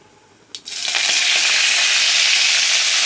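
Cumin and mustard seeds dropped into hot oil give a sudden loud, close hiss that swells into a steady crackling sizzle after a soft clink, with no one talking.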